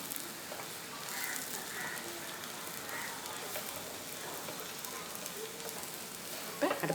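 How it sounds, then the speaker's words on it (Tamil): Grated coconut roasts in ghee in a pan, giving a faint, steady sizzle and crackle with no talk, ending in a couple of brief clinks. "அதில் ஒரு பாதி தேங்காய் நெய்யில் போட்டு நான் வறுத்து எடுத்துக்கிறேன்"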